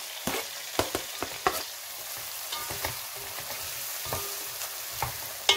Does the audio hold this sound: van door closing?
no